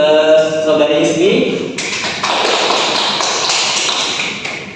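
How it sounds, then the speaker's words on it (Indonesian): Applause from a classroom audience during a chemistry teaching session rises after a voice speaks and continues as a sustained, fairly loud patter of clapping. "berikan aplaus dulu untuk saudari Ismi"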